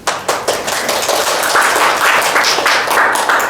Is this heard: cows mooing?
no